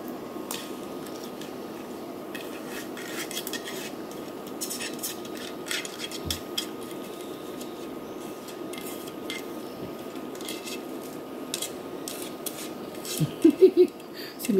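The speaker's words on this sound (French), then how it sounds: "C'est mes ongles qui font ce bruit là" Fingernails scrape and tap against a surface near a cooking pot while onion is prepared, a scratchy irregular rubbing with soft clicks, growing into a few louder knocks near the end.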